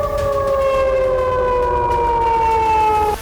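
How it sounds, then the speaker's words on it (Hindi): Air raid sirens in Russia, sounding during Ukrainian drone attacks, wail in a steady, sustained drone with a slowly sinking pitch, loud and continuous, then cut off abruptly near the end. "शाम से सायरन बजने शुरू हुए, पूरी रात बजते रहे"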